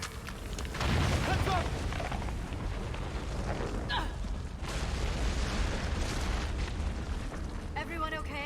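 A cave-in explosion in the video game Mass Effect 3 rumbles as a dense, loud, sustained roar of collapsing rock and low booms, with game characters talking over it.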